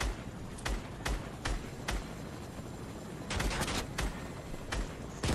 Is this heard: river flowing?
no